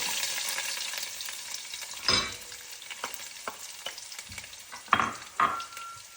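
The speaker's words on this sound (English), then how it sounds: "lower your heat to like between low and medium, and then add your peppercorn, and then also add your garlic" Peppercorns and garlic sizzle as they drop into a pan over low-to-medium heat, a steady crackling fry broken by a few louder bursts and stirring scrapes, with no talking.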